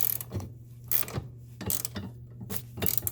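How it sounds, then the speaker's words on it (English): A ratchet wrench tightens the stabilizer link nut on a 2002 Honda CR-V, giving three or four close, crisp ratcheting clicks in bursts separated by short pauses, over a steady low hum. "use the wrench to tighten up the nut"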